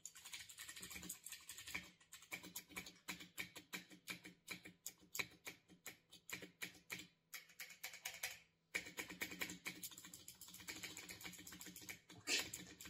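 Steady typing on a computer keyboard during a sound test, with a dense run of close, crisp key clicks, one brief pause, and a few louder strikes near the end.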